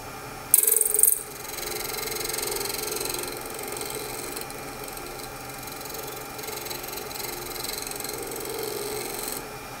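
A wood lathe hums steadily as a cutting tool hollows and shapes an apple-shaped wooden base, with a soft continuous scraping hiss after a brief louder knock at the start.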